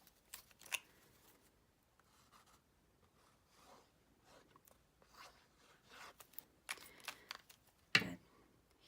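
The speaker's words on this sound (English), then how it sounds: "I'm going to take my snips and snip that and that" Snips cut through card paper while assembling a card front, giving a few short, quiet snipping clicks scattered among soft paper handling rustles, with one sharper cut near the end.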